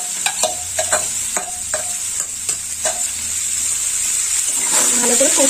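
Banana flower is stir-fried in a hot pan, with a continuous sizzle broken by a run of rhythmic clattering strokes from the stirring spoon, close and fairly loud, with no talking.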